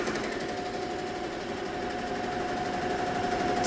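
An embroidery machine stitches contour and zigzag underlay on wool, giving a steady, fast mechanical whir with a constant hum, close and continuous throughout with no talk.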